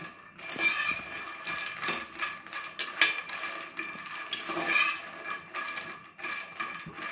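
Puffed lotus seeds are dry-roasted in a heated pan and stirred with a utensil. Irregular clattering and scraping with sharp metallic clinks repeat close by throughout. No talk is heard.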